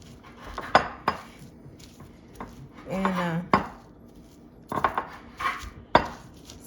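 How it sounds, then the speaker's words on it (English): Garlic being smashed with cutlery in a bowl for menudo, with sharp metallic clinks and knocks against the bowl scattered irregularly, close up, and a person briefly speaking midway. "I dice the garlic up really well, so you smash it up"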